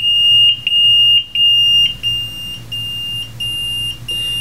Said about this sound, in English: The instrument will temporarily go into alarm, and this is a natural occurrence.